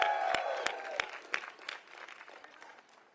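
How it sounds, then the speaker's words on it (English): Audience at an outdoor Pride flag raising in Washington, DC, giving a short round of applause: a few sharp, scattered claps that quickly thin out and fade within about three seconds. "let's give him another round of applause"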